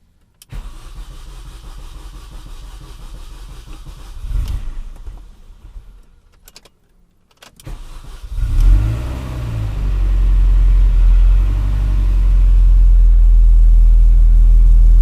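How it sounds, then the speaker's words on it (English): Rebuilt engine of a 2004 MINI Cooper S R53 cranking, going quiet, then cranking again and catching, settling into a loud, close, steady idle with a deep rumble. "I'm going to try to start the car."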